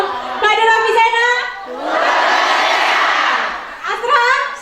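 A group of health cadres shouts a loud, rough cheer chant together at a neighbourhood health post session, lasting about two seconds, with a single voice speaking before and after it.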